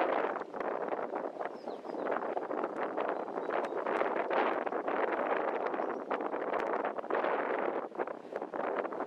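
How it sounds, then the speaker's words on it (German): Wind blowing through the Kallikratis gorge on Crete, a soft, continuous rustling gusty noise buffeting the microphone throughout, with no speech. "Das ist so wackelig, liegt daran, dass es so windig ist."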